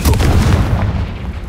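The Confringo blasting spell going off in Hogwarts Legacy, a single heavy, booming burst with a deep rumbling tail that fades over about a second, loud and close, with no one talking.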